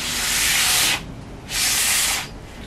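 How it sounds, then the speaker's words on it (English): Two long, steady strokes of sandpaper rubbing on a wooden guitar fingerboard, close and loud, separated by a brief pause. "as I'm sanding, I'm sort of starting very light, and as I get to this corner here"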